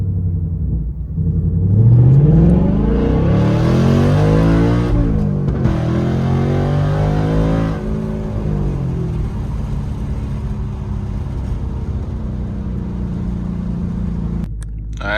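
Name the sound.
car engine revving with wind noise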